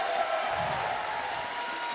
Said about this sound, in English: can we get a round of applause for Merc and Maven actually being back?